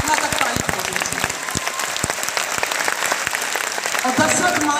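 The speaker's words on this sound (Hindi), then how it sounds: "एक बार दशरथ माता की सम्मान में जोरदार ताली हो जाए" A packed crowd at Bapu Sabhagar hall in Patna applauds loudly in honour of Dashrath Manjhi, a steady wash of clapping that holds strong throughout, with voices surfacing near the end.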